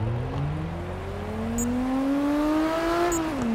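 A Toyota Supra in the CarX Drift Racing video game revs up steadily, its engine pitch climbing smoothly over a few seconds before dropping back as the throttle eases. The engine tone is continuous and prominent, with faint background noise.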